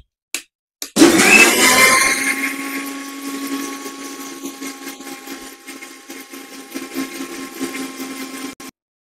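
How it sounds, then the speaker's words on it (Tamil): A mixer grinder jar blends milk sarbath for a juice shop, starting with a sudden loud whir that holds as a steady motor whine for several seconds, then cuts off abruptly. "அப்படியே மிக்சி ஜாரை ஒரு பீட் பண்ண போகிறோம்"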